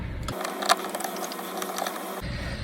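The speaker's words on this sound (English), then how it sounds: "Now we're going to loosen each hose clamp." A tool loosens hose clamps with a close, rapid mechanical ratcheting clatter for about two seconds, steady clicking with one sharper knock.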